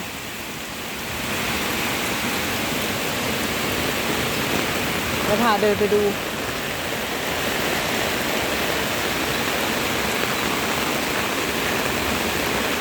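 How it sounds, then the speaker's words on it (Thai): Heavy rain and floodwater pour out of a house and overwhelm a street drain, making a constant loud rushing wash; someone speaks briefly over the water. "ดูค่ะน้ำน้ำที่ไหลออกจากในบ้านมา"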